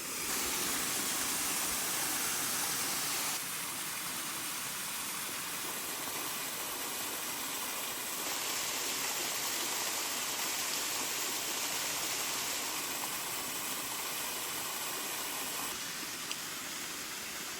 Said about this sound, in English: That waterfall's always pretty.